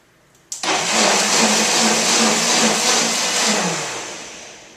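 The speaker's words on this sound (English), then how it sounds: "We'll blend it." A blender purees asparagus soup with a loud, steady whir that starts abruptly, holds evenly for several seconds, then slowly winds down.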